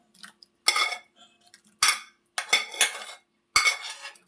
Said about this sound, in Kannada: ಹೋಳು ಸೇರಿಸ್ಕೊಳ್ತಾ ಇದ್ದೀನಿ.